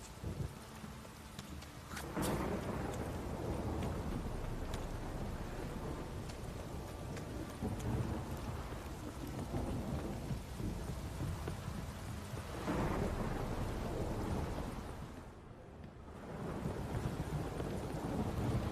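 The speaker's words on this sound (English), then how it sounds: "This downpour's a bastard" A thunderstorm with heavy rain in the video game Witcher 3: a steady, dense downpour roars throughout, broken by loud rolling thunder cracks near the start and later, with a brief dip near the end.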